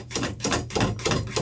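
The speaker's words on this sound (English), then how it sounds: "Now I'm going to do a tap bang test, excuse the noise" Rapid metallic tapping and banging against a stainless steel, powder-coated wreath lock, a dense clattering run of hits close to the microphone with no talking.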